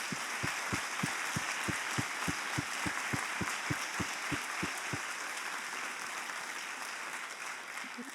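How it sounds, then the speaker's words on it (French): Audience applause at a French evaluation conference, a steady wash of clapping at moderate distance with regular low thumps, tapering off near the end. "je pense qu'on peut l'applaudir pour cette raison-là."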